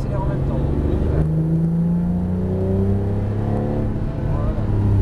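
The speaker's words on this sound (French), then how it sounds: "On débraque, progressivement, on accélère en même temps." A Porsche GT3 RS accelerating out of a corner on the Ferté-Gaucher circuit, its engine note climbing loud and steady through the revs from inside the car, with a voice talking over it.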